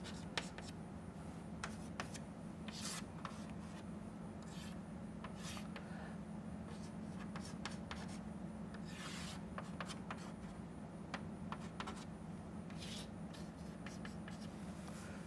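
Marker or chalk drawing on a board during a lecture on a phase diagram, faint intermittent scratchy strokes and taps over a quiet room hum, with no talk.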